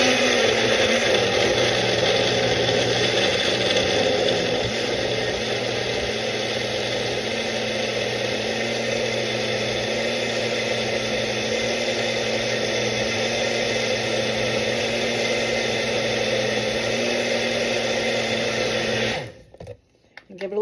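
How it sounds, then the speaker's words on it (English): Blender whirring through a nectarine collagen smoothie, a loud steady motor drone holding for about nineteen seconds before cutting off abruptly near the end. "Get the mixer over here. Let's just give this a mix."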